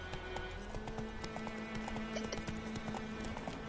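The horse Roach gallops in The Witcher 3 with quick, rhythmic hoofbeats that keep going over a low steady hum of game ambience, at moderate volume.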